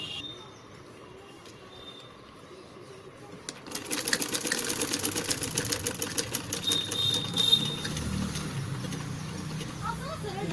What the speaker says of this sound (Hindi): ये जो स्टिचिंग है यह हम इसकी एक सिलाई करेंगे।